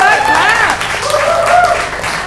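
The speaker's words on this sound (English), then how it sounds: "Give it up for both of the fellas." Clapping and applause from a live audience at a magic show, heard under loud, excited voices and cheering that stay prominent throughout the short burst.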